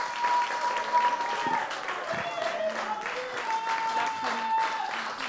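Audience applause at a live Occitan cultural show in Sète, steady dense clapping filling the room for several seconds with a faint tonal hum running underneath.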